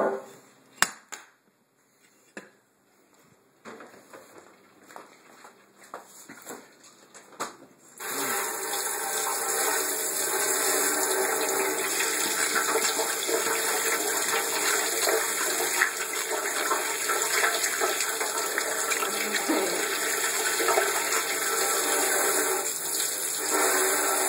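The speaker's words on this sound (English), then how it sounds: "let's disconnect this and wash it off" Water rinsing a freshly electro-chemically etched metal piece, a few clicks and handling knocks at first, then a steady loud rushing stream like a running tap that continues to the end.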